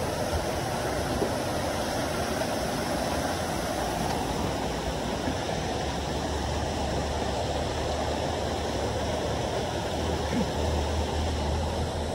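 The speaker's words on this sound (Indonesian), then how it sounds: "Ini air terjun." A continuous broadband rush of a waterfall beside a mountain trail bridge on Mount Slamet, Indonesia, steady and unchanging, with a low rumbling undertone beneath it.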